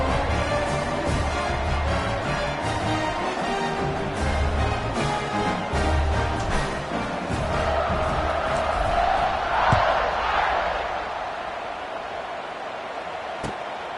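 A dense, roaring football stadium crowd after a touchdown drive, sustained cheering and hollering that swells in the middle and eases slightly toward the end, loud and continuous throughout.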